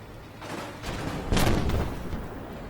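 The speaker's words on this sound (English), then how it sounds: "I'm going to start firing on enemy vehicles that I can see here." A tank cannon in Armored Warfare fires on enemy vehicles: one sharp, heavy boom mid-way stands out above quieter rumbling and distant gunfire, close and forceful.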